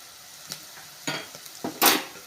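Chili powder masala is stirred in a pan, giving several separate scraping strokes with a faint sizzle in between. The last stroke is the loudest, and no one speaks.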